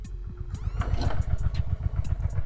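A 1997 Honda Steed 400 cruiser motorcycle engine idles close by, a steady low rhythmic thrum with a brief rising whine partway through.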